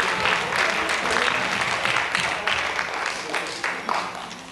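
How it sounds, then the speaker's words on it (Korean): Audience applause fills the room at a Korean song concert, a dense, steady wash of many hands clapping up close for several seconds before easing off slightly at the end. "여러분 박수로 좀 많이 주세요"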